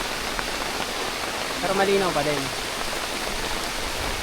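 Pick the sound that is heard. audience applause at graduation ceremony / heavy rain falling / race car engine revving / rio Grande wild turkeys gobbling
heavy rain falling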